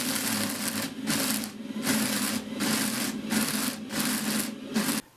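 A homemade brush sander rubs against wood in rhythmic back-and-forth strokes, about six even scrubbing bursts with brief gaps between them, close and fairly loud.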